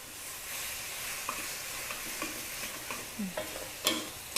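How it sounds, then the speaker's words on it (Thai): Squid stir-fries over high heat in a pan, a quiet continuous sizzle broken by scattered scraping and clinking from stirring, with no talk. "ผัดให้หมึกสุกก่อน การใช้ไฟแรงสุดเลยนะ"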